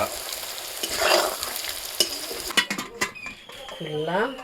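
Climbing perch (koi fish) fry in a pan with turmeric, chili powder and salt, a close sizzle broken by stirring scrapes and clinks, with a voice speaking over it near the end.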